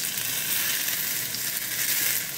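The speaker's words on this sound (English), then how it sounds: "It's going to sizzle." Ginger and green onion paste sizzles in hot oil, a steady, loud, close frying hiss that holds unbroken with no voices over it.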